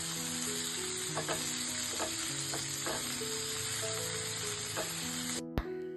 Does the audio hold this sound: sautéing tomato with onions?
yes